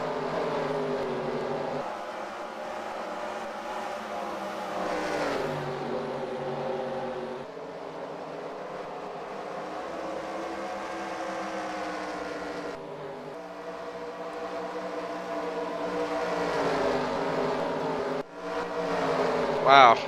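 Engines of race cars in a Cars video game race drone and whine continuously, pitches rising and falling through gear shifts, with a commentator talking over the steady mechanical hum.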